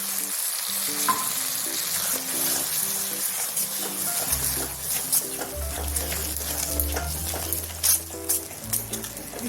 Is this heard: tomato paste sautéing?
yes